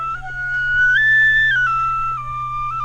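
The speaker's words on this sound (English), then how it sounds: "My penny whistle rang out across the New Forest" A penny whistle plays a short melody outdoors in the New Forest, its clear tone stepping up to a high held note and then gliding back down, steady and close, over a low background hum.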